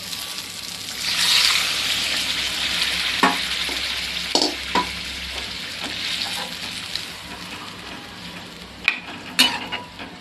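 Cooked peas tipped into a hot pan and stirred, giving a steady close sizzle with scraping stir strokes and a few sharp clinks of the spoon against the pan.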